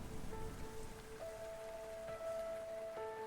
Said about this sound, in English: The rain caresses her palms.